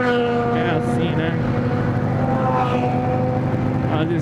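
A large group of thirteen Buell motorcycles rides at speed on a road, with a loud, steady engine drone and rising tonal whine of acceleration over wind noise, close and continuous.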